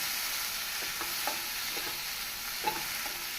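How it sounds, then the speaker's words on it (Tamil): Steady frying hiss of chopped tomatoes sautéing in a pan for mint-tomato chutney, with a few soft clicks of a utensil stirring, no voices. "தக்காளி பழத்தை ஒரு நிமிடம் நன்றாக வதக்க வேண்டும்"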